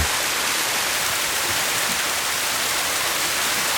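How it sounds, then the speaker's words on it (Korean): Steady, dense rushing of flowing water fills the whole stretch, a constant loud hiss like a nearby waterfall. "가만히 서서 물소리를 듣고 있으니"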